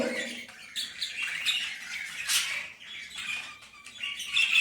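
Small birds chirp and squawk in quick, overlapping bursts, fairly close and continuous, with no voices.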